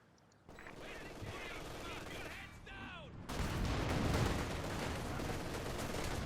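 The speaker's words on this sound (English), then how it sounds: "Grenadiers here blasting away." Grenadiers firing in a Company of Heroes 2 match: faint, distant rifle and machine-gun fire under a low battlefield rumble, swelling into a louder, denser barrage of shots in the second half.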